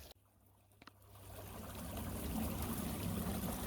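Stream water flowing after a leaf jam is cleared while prospecting for gold, starting quiet and swelling into a steady, close, rushing trickle with no talking.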